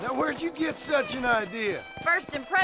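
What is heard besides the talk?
No distinct noise like a dog, phone or traffic.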